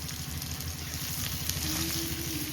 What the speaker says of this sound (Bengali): শুধু লবণ দিয়ে আলুটা সুন্দর করে ভেজে নিয়েছি